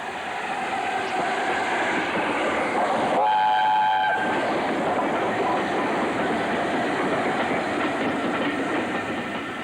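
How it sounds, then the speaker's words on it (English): The Mallard steam locomotive pulling into Westbury Station, a loud continuous rumble and roar of the moving train with a short whistle blast sounding near the middle. "The train ran into Westbury Station from the south"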